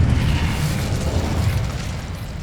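Incendio fire spell cast in the Hogwarts Legacy video game, a steady, loud, roaring rush of flame with a deep rumbling body that holds for a couple of seconds and then eases slightly.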